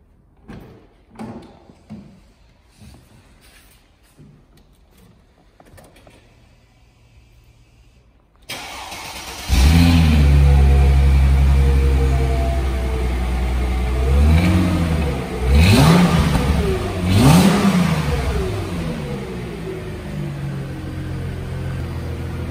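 A black 2006 Chrysler Crossfire engine cranks and catches, then idles loudly before being revved a few times, the roar rising and falling, preceded by a few thumps and clicks.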